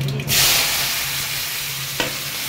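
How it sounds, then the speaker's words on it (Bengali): Potatoes hit hot oil tempered with panch phoron and set off a loud, steady sizzle and fry hiss close by, with one brief clatter near the end. "ফোড়নটা হয়ে গেছে, আলুটা দিয়ে"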